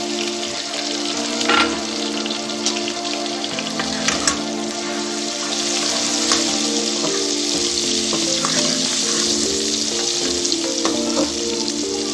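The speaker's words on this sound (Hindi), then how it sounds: "अब हम इसी ऑयल में लहसुन अदरक का पेस्ट," Steady, loud sizzling of garlic and ginger paste frying in very hot oil for chicken haleem, a continuous crackle with occasional sharper pops and faint stirring.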